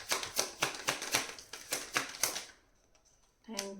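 Cards shuffled for a tarot reading, a rapid series of about nine crisp riffling snaps close up, then a short quiet pause and a voice starting at the end.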